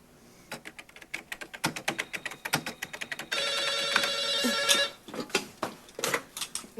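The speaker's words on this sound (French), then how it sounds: "Le téléphone sonne tellement peu depuis que vous êtes parti que je sursaute à chaque fois" An old-style telephone bell rings loudly in an office, a sustained metallic trill in the middle that is framed by rapid clicking and tapping before and after it, with no voices.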